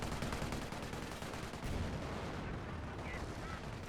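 Mortar and gunfire in a 4v4 online shooter match on the Bastion map, a dense, loud barrage of booming blasts and rattling shots filling the whole stretch.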